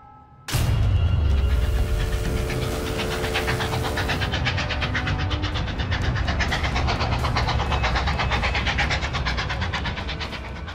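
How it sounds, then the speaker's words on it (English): A packed troop train carrying fresh soldiers and supplies speeds along the railway, its engine roaring steadily with continuous wheel clatter close by for the whole stretch after a sudden start. "A packed train speeds on its way south, ready to replenish the Union Army with fresh troops and supplies."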